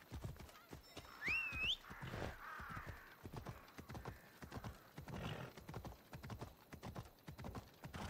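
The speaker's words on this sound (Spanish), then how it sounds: "voy a ir en caballo" Hooves clip-clop rhythmically as a horse is ridden in the video game Assassin's Creed Odyssey, with a whinny near the start and a steady trotting beat continuing underneath.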